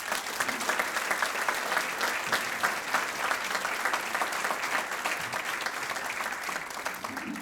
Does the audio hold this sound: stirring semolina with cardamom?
no